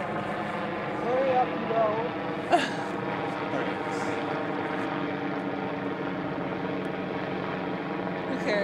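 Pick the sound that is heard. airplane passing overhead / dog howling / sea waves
airplane passing overhead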